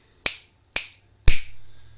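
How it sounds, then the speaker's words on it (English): Three sharp finger snaps off to one side of a stereo webcam microphone, evenly spaced, close and crisp, with the last ringing a little longer in a quiet room. "So I'm going to snap my fingers over here to my left, your right of the camera"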